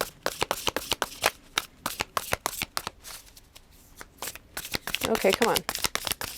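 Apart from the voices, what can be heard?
tarot cards being shuffled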